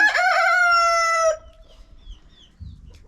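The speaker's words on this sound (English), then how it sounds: "This young man, cream leg bar, very handsome, is the main rooster that runs with the flock" A cream legbar rooster crows loudly and close in one long harmonic call lasting over a second, then quiet farmyard background with faint rustling.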